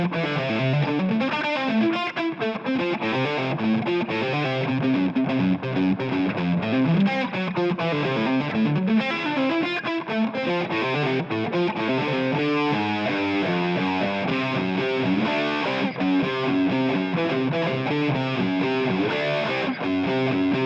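A heavily distorted electric guitar runs through a Line 6 Helix amp modeler and plays dense, continuous riffs and chords at steady, loud volume with no pauses.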